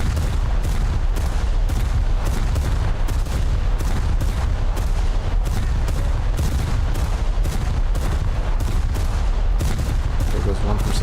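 Naval bombardment in War Thunder: a dense, continuous barrage of heavy gunfire and booming impacts, rapid repeated blasts layered over one another at steady loud volume for the whole stretch, with no pause.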